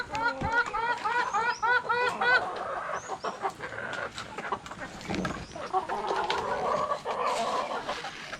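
Laying hens cluck in a run of short repeated calls near the start, followed by ongoing farmyard fowl noise while a person talks over them.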